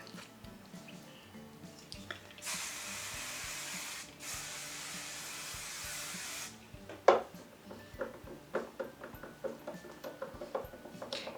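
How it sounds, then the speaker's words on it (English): Aerosol hairspray hisses in two sustained bursts onto slicked-back hair, each lasting about two seconds, followed by quiet scattered clicks and handling taps. "I'm going to do another layer of hairspray."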